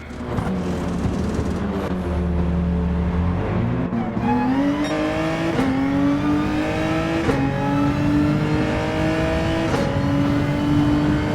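Race car engine in Gran Turismo 7, an online league finals race, dropping from a loud rev to a steady pit-lane drone, then accelerating in several upshifting surges with rising pitch; continuous and close, no talk.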